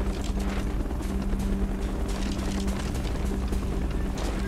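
A helicopter approaches in Call of Duty: Black Ops, a steady droning engine hum with a dense rotor-like rumble, loud and continuous throughout.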